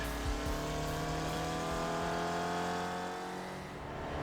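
An SRF race car in the iRacing sim lapping Tsukuba circuit, its engine droning steadily and loudly with a strong low hum and even harmonics, revs holding nearly constant before easing slightly near the end.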